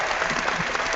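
Loud, dense applause from an audience, a steady wash of many hands clapping at once, heard alone and briefly.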